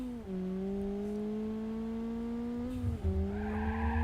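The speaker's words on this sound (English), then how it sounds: "Here we go, drifting." A car drifting in BeamNG Drive as its engine runs warm: a steady, sustained engine drone holds through a long slide, with a brief dip, then harsher tire squeal and rising revs near the end, no talking.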